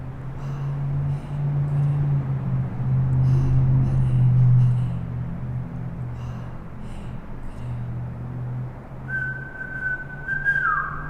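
Whistling rises over a steady low instrumental drone in a kundalini prosperity meditation track, a sustained high note entering near the end and holding before bending downward.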